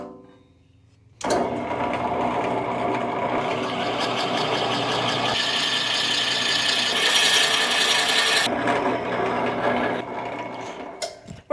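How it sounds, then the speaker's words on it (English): A drill press with a 3/4 inch bit bores steadily into the top of a wooden piece for about ten seconds, a continuous grinding whir with rough scraping texture, starting and stopping abruptly. "we're going to take this 3/4 inch drill bit and drill right in the top of it"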